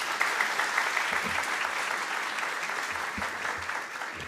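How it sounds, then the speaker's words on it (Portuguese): An audience at a panel session claps in a sustained, even round of applause for a presentation, filling the room evenly from start to finish without speech. "pedir também uma salva de palmas para a apresentação que foi realizada pelo pessoal da SPDOC"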